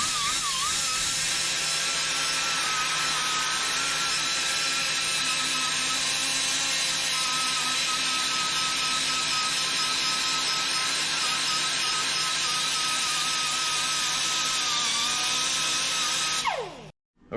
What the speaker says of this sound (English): I'm taking this tool here, angle grinder, and I have sandpaper on it